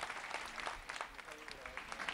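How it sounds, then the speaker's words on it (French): A large outdoor crowd applauds elderly people during the Pope's meeting with the population in Peru, a faint, distant wash of clapping with murmuring voices mixed in. "Il faut applaudir ces personnes âgées."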